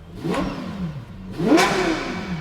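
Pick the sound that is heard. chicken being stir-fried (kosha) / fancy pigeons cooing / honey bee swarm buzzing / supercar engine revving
supercar engine revving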